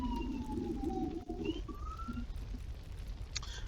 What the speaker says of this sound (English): y'all have to forgive the sirens. They go past from time to time